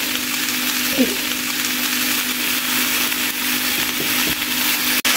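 Green peas frying in a pan while making vegetable tofu, a steady hiss of sizzling oil running throughout at moderate level with a brief clatter near the start and a sharp knock at the end.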